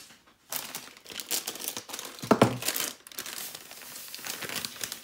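Scissors cut through plastic packaging while putting together a storage box, giving close crinkling and crackling bursts with one sharper snip in the middle and no talk.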